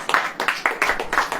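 A church congregation claps during a Hindi-language sermon, a short burst of rhythmic, fairly close hand claps in uneven pulses.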